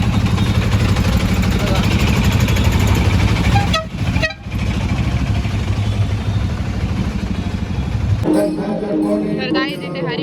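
Auto rickshaw ride through busy traffic in Dwarka: a steady, loud engine drone with repeated horn blasts from nearby vehicles and muffled voices inside the cab.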